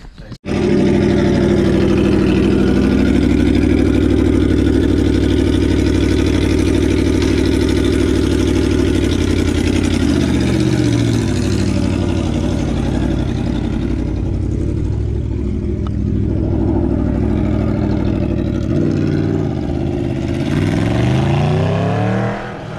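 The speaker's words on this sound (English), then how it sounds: "That's just the sound of the bike, I guess, but not bad." An Aprilia V4 1100 motorcycle engine runs through a cheap $10 exhaust, loud and close, holding a strong idle and revving with rising and falling pitch sweeps.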